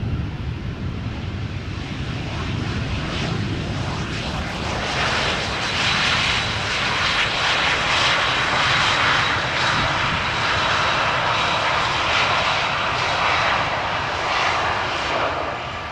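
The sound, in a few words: airplane landing at Amsterdam Schiphol Airport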